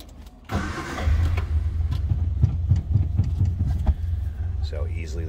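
A 1966 Amphicar 770 engine cranks and catches, then settles into a steady, quiet, smooth idle with light rhythmic pulsing, close by and alone after the start.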